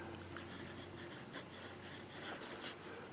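A broad-nib fountain pen lays down KWZ ink on paper, giving a steady close scratching and gliding of the nib with repeated short strokes, with no voices.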